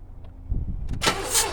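An Oldsmobile Cutlass with a 307 engine cranks briefly during a compression test: a short low rumble, then a sudden harsh burst of broadband noise, heard close over about a second.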